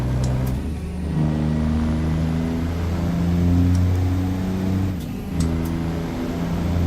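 A big yellow show truck's engine hums and revs at moderate loudness inside the cab, rising and falling through gear-like pitch shifts, with a couple of faint clicks and no speech.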